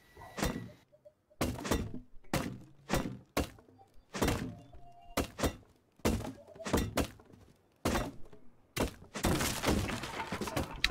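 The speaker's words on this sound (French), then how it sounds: "j'ai commencé à taper le coffre" Repeated thunking hits on a storage chest during a raid in the video game Rust, a steady series of sharp impacts, roughly one every second, loud and close with no talk.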